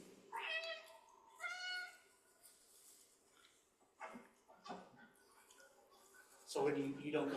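Cat meows from the video game Stray, several short, clear mews spaced over several seconds, with people talking and quiet room noise between them.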